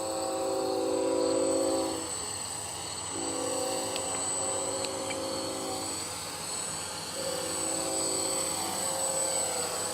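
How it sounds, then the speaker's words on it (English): A GPS RC quadcopter with eight motors and six axes flies nearby, giving a steady whining motor drone with tonal hums that waver slightly in pitch, continuous with no talk. "Really kind of a neat quadcopter."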